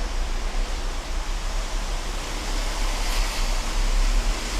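Water poured steadily over ground coffee in a cold brew coffee maker, a continuous broad rushing splash with no pauses, close and fairly loud.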